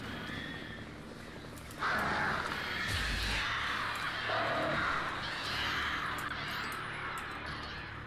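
Crows caw in a video game, a few harsh calls breaking out over a quiet ambient background, with some rustling and a fainter bird cry later.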